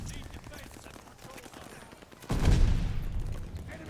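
NZ-41 rifle fire in Call of Duty Vanguard: low rattling shots give way to a loud, heavy burst of rapid automatic gunfire that booms and then trails off.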